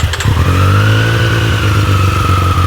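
A 2024 Mustang GT with a stage 2 Whipple supercharger and no exhaust idles steadily up close with a deep, throaty rumble and a slight rise in revs near the start.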